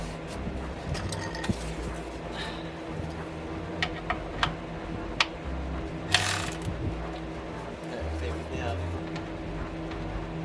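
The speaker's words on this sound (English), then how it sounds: "Alright, good old breaker bar." A breaker bar loosens the oil drain plug under an 8th-gen Honda Civic, giving several sharp clicks and a metallic crack close by. A person speaks throughout.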